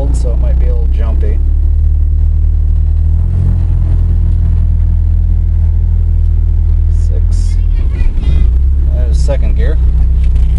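A cold car engine runs in first gear while driving, fitted with a MegaSquirt-based electronic automatic transmission controller, giving a steady, loud low rumble with a brief surge near the end, heard under someone talking.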